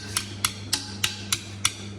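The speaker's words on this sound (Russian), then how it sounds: "легенько подударь по колечку, чтобы защелкнуть его" Six light, sharp hammer taps land at steady half-second intervals as a retaining ring is snapped into place during repair of a Vito 447 outboard motor, close and crisp over a low background hum.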